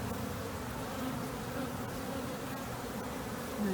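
Honeybees in a hive where a new bee is emerging from a brood cell, a dense, steady close-up buzzing hum with no voices.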